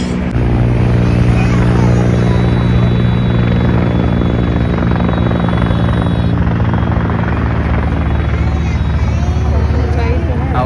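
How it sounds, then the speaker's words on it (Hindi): A helicopter passes near an airport runway in Lucknow, its loud, steady rotor thump and engine drone filling the whole stretch without a break, with voices nearby. "एक हेलीकॉप्टर निकल के जा रहा है।"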